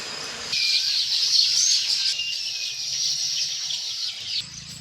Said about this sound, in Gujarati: સોમવારની સવાર, પંખીડા બધા આવી ગયા છે.